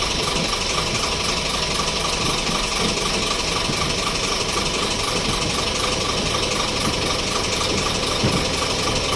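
A repaired car wiper motor runs steadily with a constant mechanical buzz and whir, close and loud, with no break across the whole stretch.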